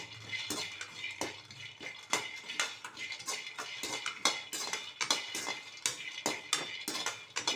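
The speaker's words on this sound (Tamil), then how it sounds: "கிட்ட இருந்து நம்ம வேர்க்கடலையை வறுத்து எடுத்துக்கலாம்" Groundnuts dry-roasting in a pan for chutney give a brisk, repeated rattling and clinking as a spatula keeps scraping and turning them, the metallic taps coming in a quick irregular rhythm at a moderate volume.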